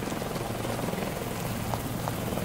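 A helicopter in the video game Infected, heard as a steady, continuous rotor drone with a faint rain-like hiss and no talk over it.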